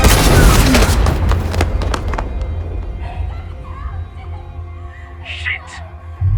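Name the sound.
gunshot in an action movie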